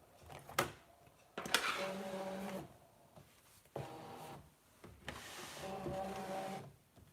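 A Brother ScanNCut cutting machine waking from sleep, with several motor whirs and mechanical clunks in separate bursts and a few sharp clicks between them, close and moderately quiet.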